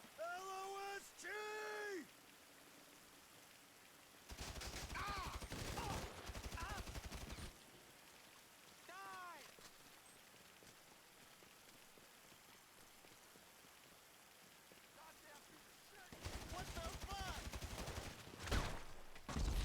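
Video game gunshots crackle in two dense bursts of rapid fire, separated by a long quieter gap, with a voice talking in places and faint ambience underneath.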